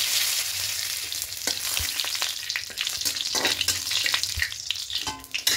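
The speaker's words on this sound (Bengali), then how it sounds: "এবার তেলের মধ্যে দেবো গোটা জিরে ফোড়ন দেবো, 2টো শুকনো লঙ্কা দেবো আর একটা বড় তেজপাতাকে এরকম 2 টুকরো করে দিয়েছি।" Whole cumin seeds, two dried red chilies and a bay leaf torn in two crackle loudly in hot oil, a dense nearby sizzle with scattered sharp pops and spatula scrapes.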